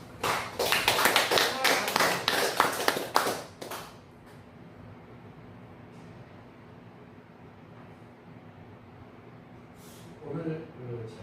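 A congregation applauds during a Sunday church service, with dense clapping for about three and a half seconds that then fades into quiet room tone and faint distant sounds.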